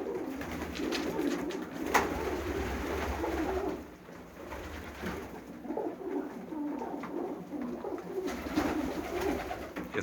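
Racing pigeons, including Budapest pigeons, coo softly and continuously in a low, burbling chorus, with occasional wing flutters and rustling nearby; no voices.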